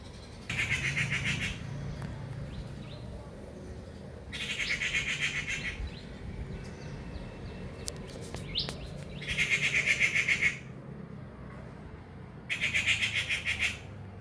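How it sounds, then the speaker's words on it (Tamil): A rufous treepie calls harshly in four loud raucous bursts spaced a few seconds apart, over steady outdoor background noise. "அரிகாடை என்னும் செம்பழுப்புவால் காக்கை தினம் தினம் இங்கே வந்து கடூரமாக கத்திவிட்டு விதைகளை உண்டு செல்லும்."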